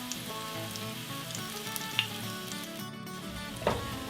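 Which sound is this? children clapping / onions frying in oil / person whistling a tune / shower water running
onions frying in oil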